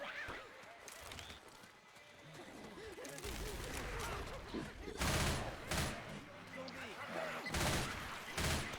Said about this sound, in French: Arme à feu.